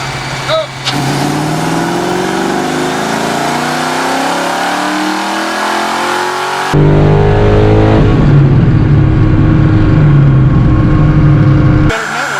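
A 1986 Ford Mustang GT engine revs on a dyno in fourth gear, a loud rising V8 roar that climbs through its pitch, then a steady high-rpm scream that stops suddenly. Voices are heard at the start.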